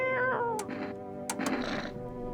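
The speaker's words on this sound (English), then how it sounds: "Oh, look at the cat." A cat in the game Cultists and Maniacs lets out a couple of short, close meows, with a few soft clicks and rustles between the calls.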